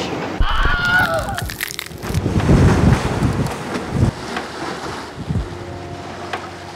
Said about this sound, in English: The wind strength of the squalls seemed to be getting stronger and stronger with each rolling wave of a cloud that came over.